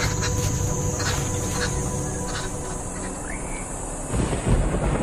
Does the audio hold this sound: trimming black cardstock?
no